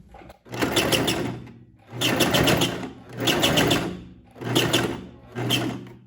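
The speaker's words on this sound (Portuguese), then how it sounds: "E vou passar uma nova costura." Sewing machine running in five short bursts with pauses between, stitching a new seam on a belt, a close, fast mechanical whirring and clatter with no talk.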